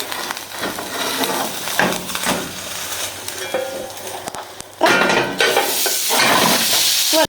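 A breakfast dough ball fries in a pan, a continuous close sizzle with clattering of a plate and pan as it is flipped, the frying louder after the turn, no talking.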